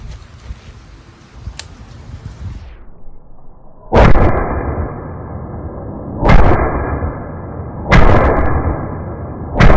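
Rifle shots from an Aero Precision 14.5-inch upper fitted with a standard weight buffer, four sharp loud reports at irregular intervals of about two seconds, each with a ringing outdoor echo, after a quieter stretch of background noise.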